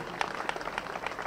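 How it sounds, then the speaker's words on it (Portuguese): Modest audience applause at a 60th birthday celebration, a faint scattered patter of hands with a few distinct claps spaced about every quarter second, heard from a distance. "Aplausos."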